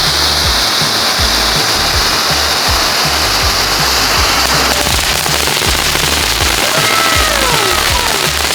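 Mini firecrackers crackle in a dense, continuous burst of rapid pops, loud and close, with a hissing wash throughout and faint whistling fizz near the end.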